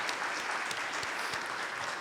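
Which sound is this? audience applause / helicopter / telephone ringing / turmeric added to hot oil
audience applause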